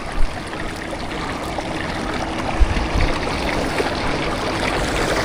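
Seawater rushes and trickles among rocks at high tide as a steady, broad, close wash of flowing water with a few small splashes and no voices.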